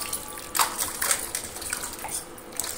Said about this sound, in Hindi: पहले इसको धो लेते हैं।